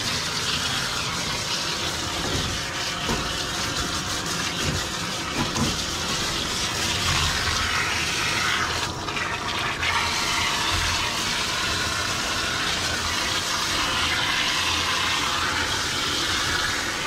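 Running water rinsing a Schnauzer during grooming, a continuous loud rushing spray from start to finish, steady and close, with no talking.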